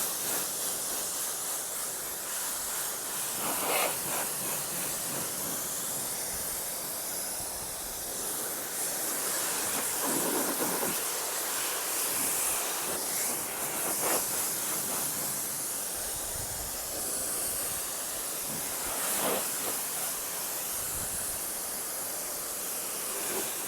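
A water sprayer rinses a Cadillac Escalade during a car wash, producing a steady, loud hiss of spray that carries on throughout with slight surges and no talk.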